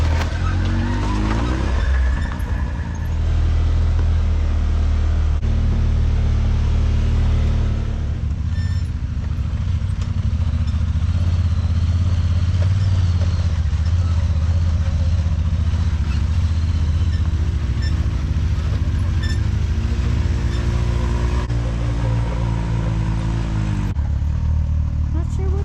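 A UTV fitted with 32-inch tires in place of stock 28s climbs over logs on a High Sierra Nevada mountain trail, its engine rumbling steadily and close throughout, with occasional bumps and people talking over it.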